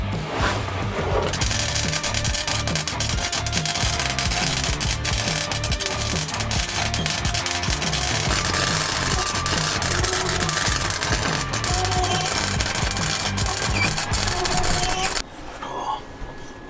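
Welding crackles and buzzes as a steady, close, harsh hiss for about fifteen seconds, then stops abruptly.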